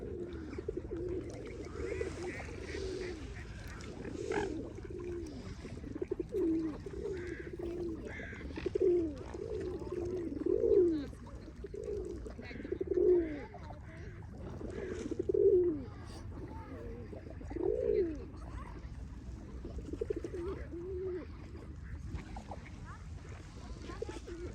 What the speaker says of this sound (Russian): Боже мой, какая доверчивая птица.